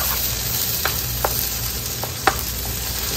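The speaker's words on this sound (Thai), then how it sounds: "แล้วก็ผัดทุกอย่างให้เข้ากันเลยนะคะ" Spicy beef meatballs are stir-fried in a pan, a continuous close sizzle broken by a few sharp scrapes and clicks of the spatula, with no talking.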